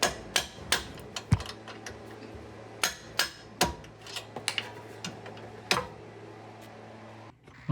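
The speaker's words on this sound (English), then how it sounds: "Once you get the nut off, you'll be able to tap them with a mallet" Mallet tapping on the trailing arm bolts of a Subaru Crosstrek during suspension work, a series of sharp irregular knocks and clinks, close and fairly crisp, over a faint background hum.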